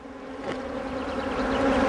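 A dense, steady buzz of many honey bees close up at a nine-frame hive, a continuous droning hum that swells slightly louder toward the end.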